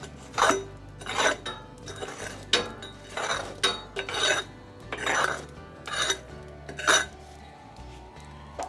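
Metal tool scraping and raking charcoal beneath a grill grate at an Argentine-style live-fire setup, producing a series of irregular close scrapes and clinks with a low background hum.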